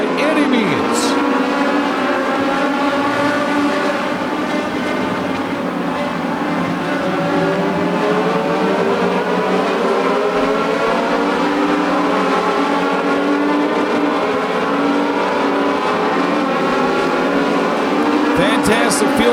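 Race cars circuit a track during a 17-car race with four laps to go, engines droning steadily and loudly throughout with shifting pitch as cars pass, under continuous race commentary.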